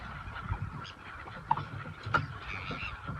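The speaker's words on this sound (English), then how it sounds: "I don't know if you can see these birds going mental" Geese honking at sea near a small fishing boat, several scattered calls at moderate distance over wind and water noise, with no talk.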